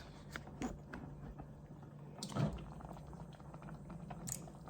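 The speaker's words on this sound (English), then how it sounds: "The grits are cooking" Grits simmer in a pot on the stove, a quiet, steady bubbling broken by scattered soft pops and blips. A few louder bursts stand out against the faint background, and no one speaks.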